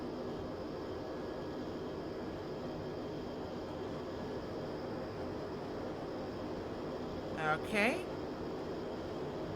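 A steady, droning light-aircraft engine from the ATSimulations Cri Cri twin-engine ultralight in Microsoft Flight Simulator 2020 hums continuously at a constant level, with a brief spoken word near the end.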